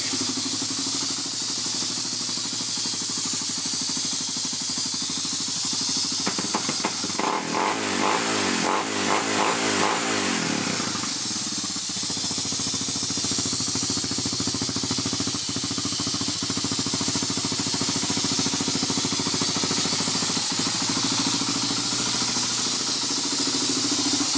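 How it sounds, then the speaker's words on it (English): An air compressor runs loud and steady with a continuous motor drone, a rattling, pulsing stretch partway through, and no talk over it. "I'm going to fire up the air compressor."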